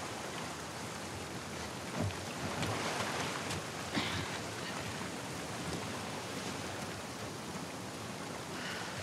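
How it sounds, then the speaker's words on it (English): Steady rain in The Last of Us Part II Remastered on PS5 hissing continuously, an even wash of noise with no voices, moderately quiet throughout. "Let's get out of the rain."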